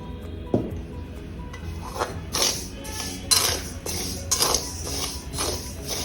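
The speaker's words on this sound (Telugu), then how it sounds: "నేను ఫస్ట్ రాగులు వేస్తున్నానండి" Finger millet (ragi) grains tipped into a pan for roasting, a series of dry scraping, rustling pours and light clinks coming in short bursts, close up and fairly quiet.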